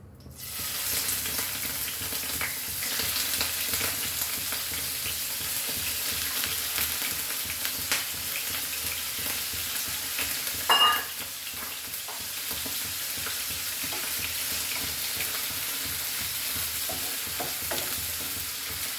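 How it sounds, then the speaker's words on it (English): Prawns frying in hot oil over a high flame give off a steady, loud sizzle and crackle that runs throughout. A brief clatter sounds near the middle, and no one speaks. "So we'll just fry this on high flame. Prawns get cooked very fast."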